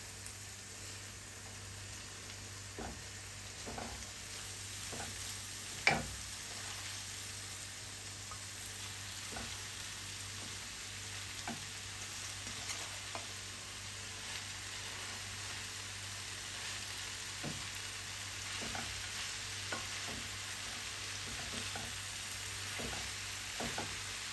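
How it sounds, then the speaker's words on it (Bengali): Lai greens go into a pan of cooking boal fish and fry with a soft, steady sizzle, broken by scattered light clicks and taps of stirring and one sharper knock; quiet and close, no talking. "এখন আমি লাই শাকগুলো দিয়ে দিব।"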